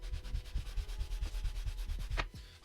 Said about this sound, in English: now I'm gonna run this over a little sanding